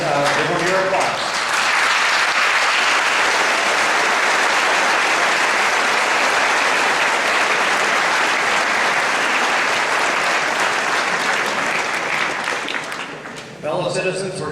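Sustained audience applause for mayoral candidates at a 2014 Summerland municipal election forum, loud and steady for about thirteen seconds before tapering off into a brief voice near the end.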